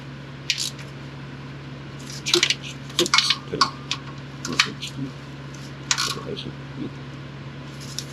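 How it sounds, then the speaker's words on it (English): Metal bolts clink and scrape as they are fitted to secure the starter on a Nissan 370Z, in short irregular bursts over a low steady hum. "So now I'm just attaching the bolts back on, securing the starter where it's supposed to live."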